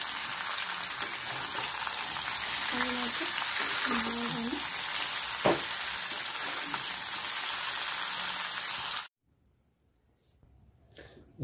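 Mango pieces fry in a pan for pickle with a steady hissing sizzle and a few faint utensil tones, before the sound drops to near silence near the end.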